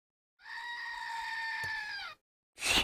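A goat bleats in a single long, steady, nasal call lasting over a second and a half, followed after a short pause by a brief loud burst.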